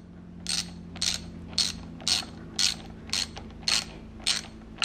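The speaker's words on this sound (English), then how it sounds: "then we get our socket here, our ratchet" Socket ratchet snugging a bolt while installing a wiring harness on a 2014 Suzuki GSX-R 750 motorcycle: about nine evenly spaced, close, crisp clicking bursts over a faint low hum, with no talk.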